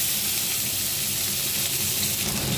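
Chopped onion, garlic and ginger sizzle steadily in hot mustard oil, a loud, even hiss that fills the whole stretch with no speech over it.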